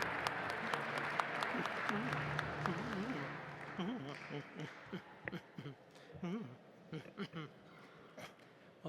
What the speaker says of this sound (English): give an enormous round of applause